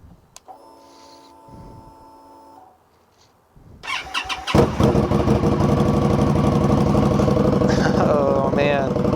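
A Victory Octane motorcycle fitted with an RPW full exhaust cranks over and fires into a loud, gruff idle after a few seconds of quiet, then rumbles steadily close by.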